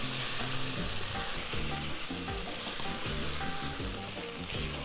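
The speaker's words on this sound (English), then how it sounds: "The onion is nicely sauteed. I'm adding the garlic." Garlic and onion sauté in a pan for Hungarian goulash, giving a steady, close sizzle with repeated stirring scrapes in a regular rhythm and no talking.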